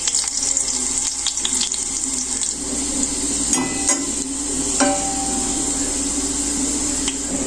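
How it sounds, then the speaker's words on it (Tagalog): Water poured into a pot of hot garlic oil while cooking sotanghon soup, a steady rushing splash with a bubbling sizzle underneath and a few clinks, close and continuous. "Kaya lagyan natin ng 1 cup of water."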